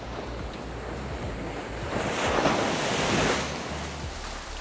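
Ocean waves roll in on a beach, a broad rushing surf that swells louder in the middle and then eases, with wind buffeting the microphone and no talking.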